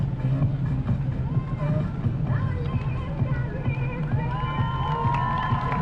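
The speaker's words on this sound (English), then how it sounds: "Nice round of applause for the girl team there." Crowd cheering, whooping and children shouting along a Fourth of July parade route in North Carolina, a dense, steady roar with a few brief whistles and a voice over it.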